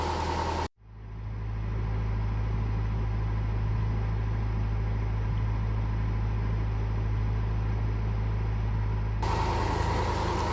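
Barge engine on a river running steadily at about 1400 revs, a loud, even low drone after a brief break at the start, continuous and alone without talk.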